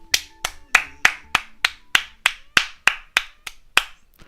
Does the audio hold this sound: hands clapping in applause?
yes